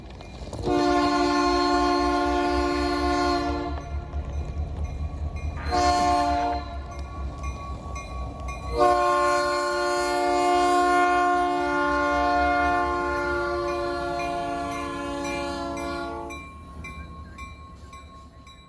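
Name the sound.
Illinois Central SD70 locomotive train passing a crossing with horn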